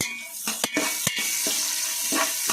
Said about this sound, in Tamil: இப்போ கட் பண்ணி வச்சுக்கிற வெங்காயம் சேர்த்துக்கலாம்